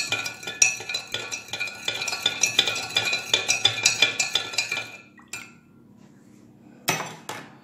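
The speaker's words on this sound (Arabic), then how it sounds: "خلينا نحرك السكر شوي." A metal spoon stirs sugar in a pot for preserving peaches, giving rapid rhythmic scraping clinks against the pot's sides and bottom, then a pause and a final few sharp clinks, close and clear with no talk.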